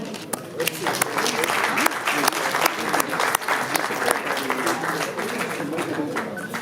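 An audience at a sports club awards ceremony breaks into sustained applause, a dense steady wash of many hands clapping close by, with crowd voices mixed in throughout.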